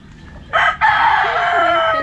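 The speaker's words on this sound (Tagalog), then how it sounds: "Ay minsan yung mga manok naiingayan ka." A rooster crows loudly and close by, one long sustained call with chickens faintly clucking in the background; no talking.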